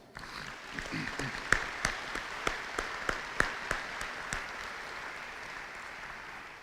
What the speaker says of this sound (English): I'd like to offer up another round of applause, please